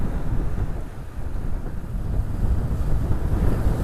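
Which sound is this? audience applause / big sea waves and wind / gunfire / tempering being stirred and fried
big sea waves and wind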